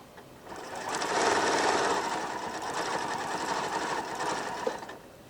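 A sewing machine runs fast and steady while stitching, a dense continuous whir with rapid needle chatter that swells in and holds for several seconds before stopping, close and loud with no talking.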